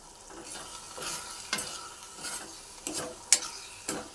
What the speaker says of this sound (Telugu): ఇప్పుడు కారం వేసుకున్నాం కదా, కలుపుకుందాం